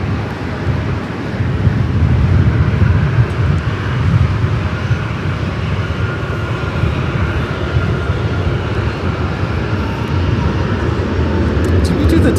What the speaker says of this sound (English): Southwest Airlines 3695 coming in from Chicago Midway on the